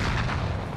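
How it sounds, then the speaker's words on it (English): Rocket explosions in the video game Warzone, a loud, dense, sustained roar of blasts that fills the whole short moment without a break. "they launched rockets"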